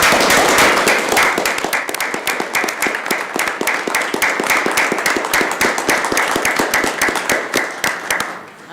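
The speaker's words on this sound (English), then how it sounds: "give you a round of applause for being such an amazing leader for the team here" A room of meeting attendees at a planning advisory commission session giving a standing round of applause, dense steady clapping from many hands lasting several seconds and fading at the end, loud and close.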